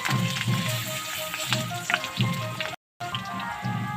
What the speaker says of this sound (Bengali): আলুগুলো এবার আমি লাল লাল করে ভেজে নেব দেখো এবার আমি তেজপাতা দিয়ে দিলাম